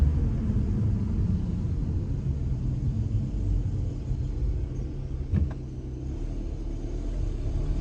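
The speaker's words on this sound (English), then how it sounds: "all I hear is the belt noise right now" Car cruising after a brake install with slotted, drilled and dimpled rotors, a steady low road rumble and hum inside the cabin with no distinct belt squeal standing out.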